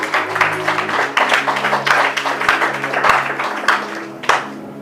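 A church congregation claps loudly and rhythmically, a dense wash of hands with sharper beats landing about every half second and people's voices mixed in.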